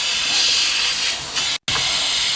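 Air hisses out of the valve of a gas cylinder being filled for a pizza van, a loud steady close-up rush that dips briefly, cuts out for a moment, then resumes just as strong.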